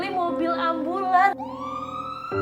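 An ambulance siren wails nearby with rising and falling tones, then settles into a steady sustained pitch.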